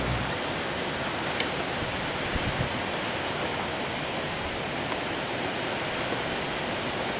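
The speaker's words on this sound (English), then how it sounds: "You can hear the wind, probably. It's not very heavy wind, but you see it carrying the rain." Wind-driven rain during a thunderstorm, a steady broadband hiss of heavy rainfall with a few faint patters, even and continuous, with no voices.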